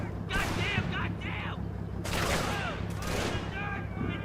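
Gunfire from the WWII tactical video game Combat Mission: Battle for Normandy, with bursts of shots and crackling volleys over a steady low rumble, while a voice talks through much of the exchange.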